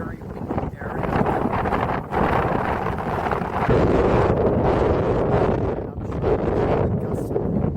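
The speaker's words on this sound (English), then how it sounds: "The one problem is extremely windy, and this is a very windy area." Strong wind buffets the microphone in a very windy rural Alaska area in winter, heavy rumbling gusts that swell and dip throughout while a person speaks underneath.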